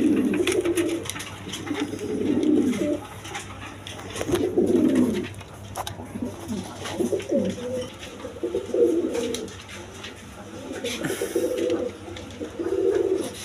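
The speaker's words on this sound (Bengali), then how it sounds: "এখানে এক পেয়ার বোম্বাই কবুতর আছে, রানিং পেয়ার" Repeated soft cooing from a pair of Bombay pigeons, low rolling calls in a steady series close by, with a faint background hum.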